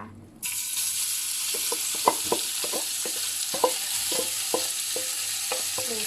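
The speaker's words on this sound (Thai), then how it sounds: "กระทะร้อนก็เอาหมูสามชั้นสไลด์ลงนะคะ" Sliced pork belly hits a hot pan with sesame oil, bursting into a sudden loud sizzle that stays steady while a utensil scrapes and taps the pan in irregular clicks, with no voices.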